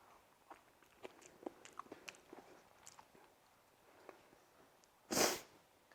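Someone eats a homemade meat pie with tomato sauce up close. Faint soft chewing and small crunchy ticks run through most of the stretch, then one loud sharp bite or crunch comes near the end.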